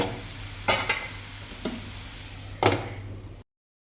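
A raw banana stir-fry stirred in a pan, with three or four scraping strokes of a spoon against the pan over a faint steady sizzle, close by with no talking.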